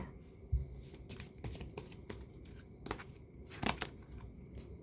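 Tarot cards being shuffled by hand, a series of soft papery riffles and taps with scattered sharper card snaps over a faint background hiss, moderately close and fairly quiet.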